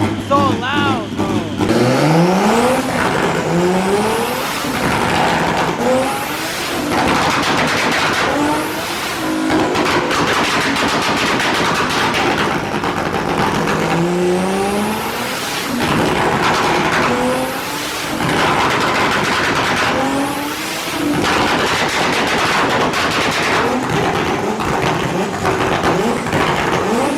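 A turbocharged BMW E46 M3 on a dyno revs hard in repeated sweeping pulls, its engine note climbing and falling again and again, very loud and close throughout.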